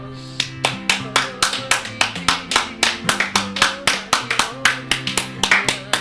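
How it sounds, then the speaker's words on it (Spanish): Church congregation applauding in steady rhythmic claps, evenly spaced and fairly loud, over a sustained musical or vocal tone in the background. "darle un fuerte aplauso a Papito Dios por esta enseñanza"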